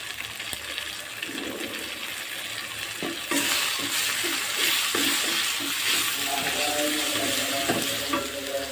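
Ginger and garlic paste frying in a pan for beef curry, a steady close sizzle that swells louder partway through, with scraping stirs and faint clinks.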